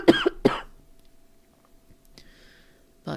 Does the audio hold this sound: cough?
yes